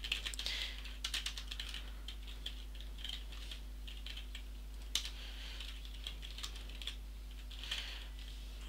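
Fingers tap across a computer keyboard in irregular bursts of light clicks, close and fairly quiet over a steady low hum, with one slightly sharper keystroke midway.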